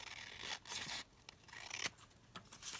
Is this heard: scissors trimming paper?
yes